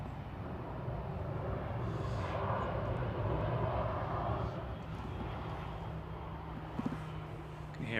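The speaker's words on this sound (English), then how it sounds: "Can you hear Ryanair going past?" A Ryanair airliner passes at Manchester Airport as a faint, distant engine rumble beneath people chatting nearby.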